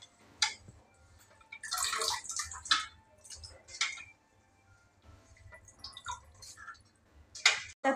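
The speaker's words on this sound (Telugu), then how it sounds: "ఇప్పుడైతే తోటకూర కడుగుతుంది" Amaranth leaves washed by hand in water in a home kitchen, with intermittent splashing, dripping and swishing bursts at close range, some louder sloshes and quiet pauses between, no talking.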